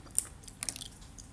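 Quiet, close crunching bites into a dried jackfruit chip from a mixed crispy vegetable and fruit snack, two or three soft crackly chews within a moment.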